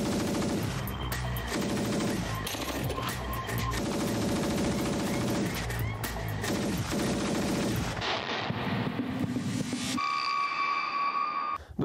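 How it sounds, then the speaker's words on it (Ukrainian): A PKM-type Pecheneg machine gun fires sustained long, rapid bursts, loud and near, stopping near the end and giving way to a faint ringing tone. "постріляємо більш довгими чергами."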